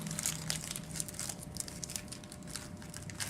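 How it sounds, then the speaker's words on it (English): Plastic wrapper of a fruit roll-up being pulled open in a classroom, a steady run of soft crinkling and crackling close by, with faint background murmur. "So first thing, open your fruit roll-up."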